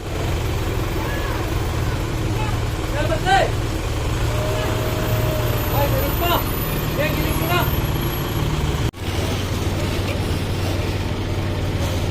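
A water ration truck passes along a street, its low engine rumble steady throughout and a brief air-brake hiss near the end, with voices and chatter in the background.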